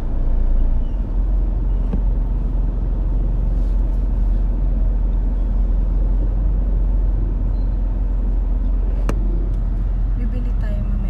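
Heavy road traffic in the Philippines rumbles low and constant from inside a vehicle, engines idling and crawling with a brief hiss of brakes, while people chat over it.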